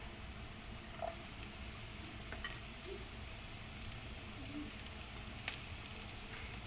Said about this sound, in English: So now we have to saute this, and after this we can add our vegetables.